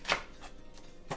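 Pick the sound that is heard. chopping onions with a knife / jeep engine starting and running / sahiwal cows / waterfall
chopping onions with a knife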